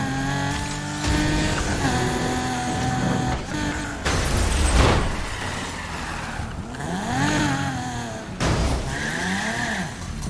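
A racing car in Need for Speed Heat revs and shifts through gears with rising and falling engine whine, tire noise and bursts of acceleration, loud and continuous with no talk.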